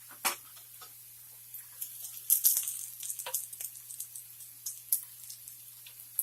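Pecan halves sautéing in a pan for butter pecan sweet potatoes, giving a quiet, sparse sizzle with scattered small pops and ticks over a faint low hum, the crackles growing a little busier partway through.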